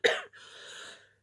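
One sharp cough bursts out, followed by a breathy, rasping exhale that trails off into silence.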